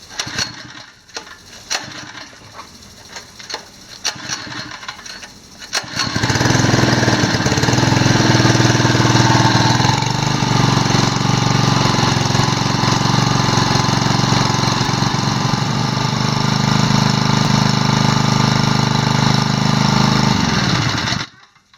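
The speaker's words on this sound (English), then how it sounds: "Now I'm going to cut the motor on and show you how the motor sucks the air out of it." An Octopumps Ultralight 2 pump motor starts after a few seconds of quieter handling noise, then runs loud and steady, droning and rattling for about fifteen seconds before cutting off abruptly.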